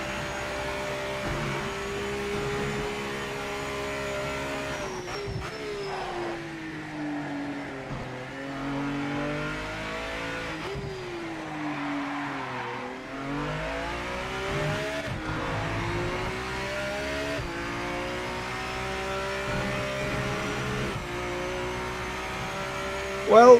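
Aston Martin Valkyrie hypercar engine in the racing game Project Motor Racing, a high-pitched whine that climbs and drops through gear changes for a sustained lap stretch, with a low rumble beneath and faint talk over it.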